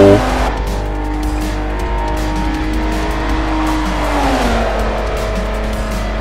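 A racing car laps a track in Forza Motorsport 4, its engine holding a loud, steady high-revving drone through a banked corner, with the pitch dipping midway and brief tyre squeal.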